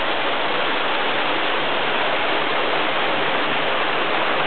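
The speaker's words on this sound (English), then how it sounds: "There's quite a bit of water running through there." Creek water gushes out of a sheer rock bluff at Blowin' Cave, a loud, steady, dense rushing roar that holds unbroken throughout with no voices.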